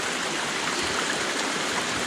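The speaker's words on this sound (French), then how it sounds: "Cette source d'eau qui sort du caillou, qui jaillit, qui arrose les rochers environnants" Spring water gushing out of rock and splashing over the surrounding stones near a tufa bridge in a river gorge, a steady broadband rush without pauses, close and fairly loud, with no voices.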